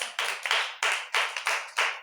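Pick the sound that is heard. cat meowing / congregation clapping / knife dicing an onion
congregation clapping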